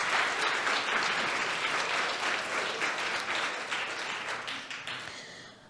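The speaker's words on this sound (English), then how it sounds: "yes, let's clap it up." Audience applause during a talk on restorative economics, a steady dense crowd clapping that holds loud for several seconds and then begins to taper off near the end.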